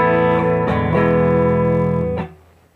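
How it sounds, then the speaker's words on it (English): A clean electric guitar tone from a Fender Stratocaster on its middle pickup with all controls up, played through a Deluxe Reverb amp: a few picked notes, then a sustained ringing chord that stops abruptly with a short reverb tail. "So that's Fender Stratocaster using the middle pickup. Everything's up all the way, going into a deluxe reverb."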